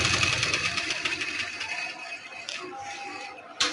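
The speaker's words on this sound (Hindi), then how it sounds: "और ये इस तरह हम सिलाई लगाना शुरू करेंगे।" A sewing machine stitches trouser fabric, its rapid mechanical whir running steadily close by and pausing briefly near the end.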